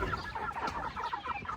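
Flock of eight-week-old Cornish Cross meat chickens clucking and murmuring continuously at close range, many overlapping calls forming a steady busy chatter with no talk.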